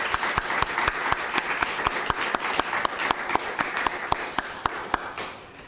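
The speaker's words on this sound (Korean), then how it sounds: "박수로 환영 다시 한번 축하하겠습니다" Steady crowd applause at a Korean church service, with sharp, evenly spaced claps standing out near the front, continuing throughout and easing off at the end.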